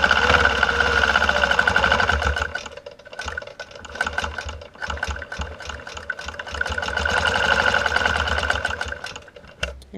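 Sewing machine free-motion quilting feather motifs on a quilt block, a steady rapid needle chatter running continuously at close range, briefly easing and picking back up, with no talk.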